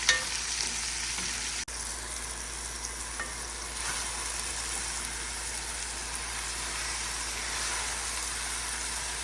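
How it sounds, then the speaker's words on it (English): Leeks, celery, carrots and mushrooms fry in a hot pan with a steady, close sizzle that holds evenly throughout, broken only by one brief clack near the start. "And then I'll throw in my vegetables. That's all the leeks, celery, carrots,"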